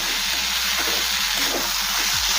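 Masoor dal lentils are stirred and fried in a pan, giving a loud, steady sizzle with occasional scraping strokes of the spoon and a low hum beneath.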